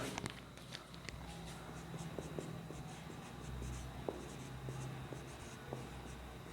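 Marker or chalk writing out a switching circuit on a classroom board, steady scratchy strokes with short taps, close and fairly quiet, with no voices.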